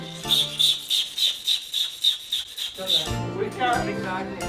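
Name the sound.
perfume bottle being rubbed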